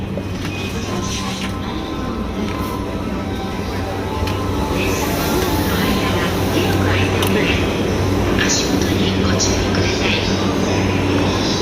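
A train pulls into Shibuya station in Tokyo, a steady loud rumble and hum of the carriages filling the whole stretch, with scattered clanks and a voice speaking faintly beneath.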